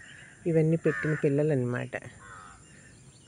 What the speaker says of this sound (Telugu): పక్కన చక్కగా పక్షుల అరుపులు, కాకులు, కోళ్ళు అన్ని అరుపులు వినిపిస్తున్నాయి